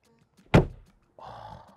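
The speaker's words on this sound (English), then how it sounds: "And listen to the door." Mercedes G580 electric SUV door shut once with a solid, heavy thunk, close and clear, followed by a quieter hum.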